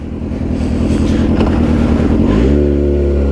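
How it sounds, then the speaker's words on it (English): A Kawasaki Ninja ZX6R 600cc sport motorcycle's exhaust rumbles loudly up close, its tone climbing then settling into a steady higher-pitched drone as the engine revs. "Exhaust. Do you hear how loud that is?"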